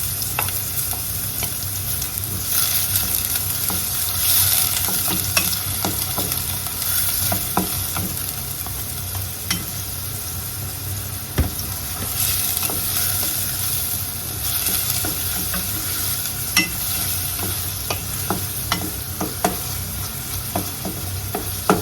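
Garlic frying in a pan until lightly browned, while chicken sopas is being made, gives a steady loud sizzle. Scattered clicks of stirring ring out over it throughout, and no one speaks.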